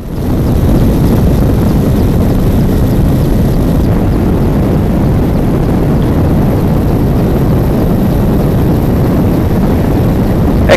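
A helicopter flies over the forests of Mersin, its rotor and engine roar steady, loud and close throughout, with no voices over it.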